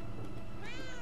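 A cat meows once in the video game Murdered: Soul Suspect, a short rising meow near the end over a dense, noisy background.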